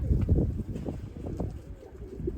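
Low, throaty pigeon coos near a coop, several soft repeated calls close by with faint rustling underneath.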